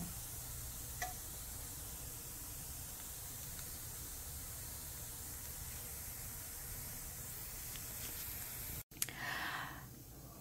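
Vegan bacon strips sizzle steadily in a frying pan, a continuous soft hiss with faint crackles throughout, ending in a brief clatter near the end.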